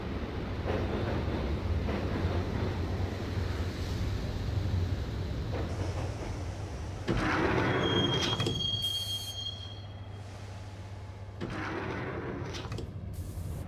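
Train ride in the 2001 video game Max Payne, heading to Roscoe Street Station: a steady low rumble of rolling rail cars with a shrill wheel squeal rising midway, loud and continuous with no talking.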